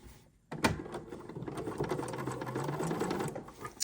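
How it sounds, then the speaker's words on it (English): A sewing machine stitching a Dresden pillow starts after a brief pause and runs as a steady, close, rapid mechanical whir and patter for several seconds. "And now I'm going to stitch."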